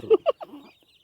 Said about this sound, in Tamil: அந்த கோழி இதை கொத்துது